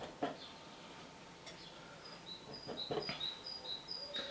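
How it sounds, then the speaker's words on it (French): Birds chirping outdoors, several short bright tweets and calls scattered near and far over a quiet background, growing busier toward the end. "je pense que vous allez juste entendre les oiseaux puisqu'on n'entend vraiment que ça"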